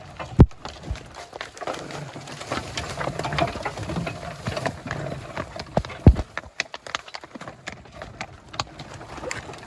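Hooves of a working mare clip-clop steadily at close range, a sharp knock sounding near the start and another a few seconds later, with faint rustling outdoors.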